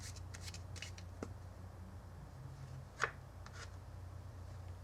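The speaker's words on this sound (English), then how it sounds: "We're going to shuffle it into the center" Soft riffling and slapping of playing cards in a Hindu shuffle by hand in short bursts, with a couple of sharper taps, quiet and close.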